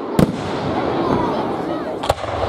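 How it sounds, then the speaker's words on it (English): Fireworks at an outdoor display in Bramley go off in two sharp loud bangs about two seconds apart, over a constant murmur of crowd noise and faint voices. "Fireworks."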